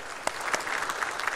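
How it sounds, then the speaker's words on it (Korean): A church congregation claps together during a Korean worship service, a brief dense burst of applause from a crowd in the sanctuary. "자, 우리 박수 한번 합시다."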